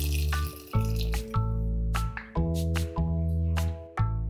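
Peas and a cup of water go into a hot pan with oil for Jain matar paneer, giving a few splashy, dripping bursts close by over a steady low hum.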